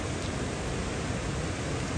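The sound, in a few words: heavy rain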